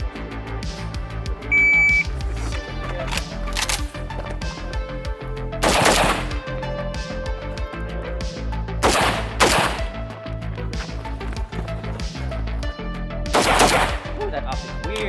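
Sharp, loud rifle shots from a 13-inch IWI Galil Ace chambered in 5.45 on a shooting stage, several reports spaced a few seconds apart, each with a crack and ringing tail.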